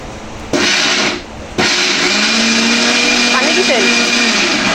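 An electric kitchen blender running loud and close, a steady whirring drone that dips briefly, then resumes at full power with shifting pitch as it spins.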